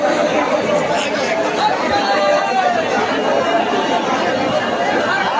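Dense crowd chatter fills a packed Ghutiyari railway station during the annual Urs at the Gazi Baba shrine, a steady, loud babble of many overlapping voices with no pauses.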